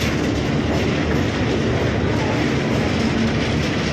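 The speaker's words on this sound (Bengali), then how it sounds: "এই রূপনারায়ণ নদী ক্রস করছে আমাদের ট্রেন" A local train on the Digha line crossing the bridge over the Rupnarayan river, a loud, steady rumble and rattle of carriages with faint clickety-clack, continuous and close, no talking.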